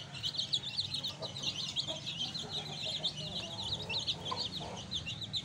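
A hen clucks softly among her eight-day-old chicks, whose high thin peeps chirp almost continuously over her low intermittent clucks, close by, with a voice speaking briefly nearby.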